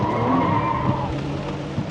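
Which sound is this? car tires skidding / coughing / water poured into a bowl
car tires skidding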